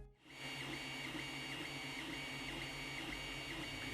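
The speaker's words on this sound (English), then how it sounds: "Once you start a print, it's even noisier, with the stepper motors whining away at different frequencies constantly." A Creality Ender 3 3D printer runs mid-print, its stepper motors whining at shifting pitches over a constant fan hum, starting abruptly and then holding a steady, fairly close drone.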